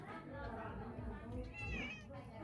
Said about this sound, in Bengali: দেখো মিয়াওকে দেখো আমার